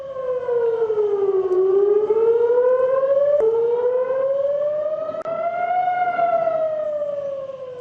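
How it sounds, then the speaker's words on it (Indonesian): Air raid sirens wail across Tel Aviv during an Iranian missile attack, one loud, steady siren tone slowly falling and rising in long sweeps, with no voices. "Sirine berbunyi di seluruh Tel Aviv."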